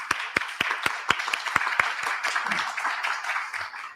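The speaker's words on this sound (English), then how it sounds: "I think we should give a round of applause for Carla for making that happen" Audience applause at a public library event: several sharp individual claps at first, then a fuller spread of clapping from a modest crowd that tapers off.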